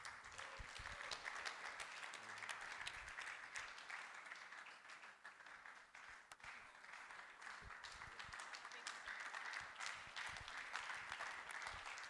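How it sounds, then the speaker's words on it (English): Audience at a business conference applauds after a session, sustained even clapping from many hands lasting the whole stretch, heard fairly quietly from a distance. "Please, let's keep clapping."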